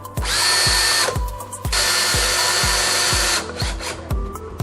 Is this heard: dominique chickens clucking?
no